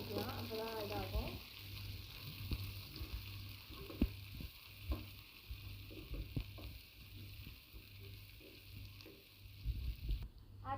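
Chopped onions frying with curry leaves in a pan for a chicken curry, a steady close sizzle with occasional stirring clicks and scrapes, a voice heard briefly at the start.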